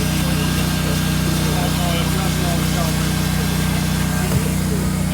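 Hot-air hand welder running steadily while seaming a T-seam in single-ply roofing membrane, a continuous loud whine and hum throughout, with people talking over it.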